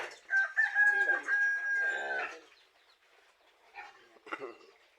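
Chickens cluck and a rooster crows loudly up close on a farm, followed by quieter scattered clucking from the flock.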